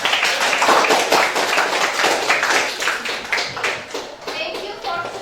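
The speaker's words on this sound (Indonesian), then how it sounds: "beri aplaus dong untuk kita semua" A classroom group of students claps together at the close of a lesson, with steady dense hand claps that taper off over several seconds while voices mingle underneath.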